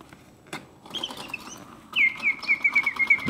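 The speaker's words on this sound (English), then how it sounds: "and then opening and closing their beaks and flapping their tails, synchronized with the bird song." A vintage Karl Griesbaum mechanical singing bird cage trills a bright, whistling birdsong, short chirps at first, then a rapid, rhythmic warble, close and clear over faint mechanical noise.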